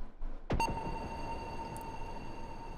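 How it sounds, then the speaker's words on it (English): A single synthesized pluck rings out through a Valhalla Shimmer reverb on near-default settings, then hangs in a long, bright, shimmering reverb tail that sustains steadily to the end. "that just adds a whole bunch of reverb to that sound"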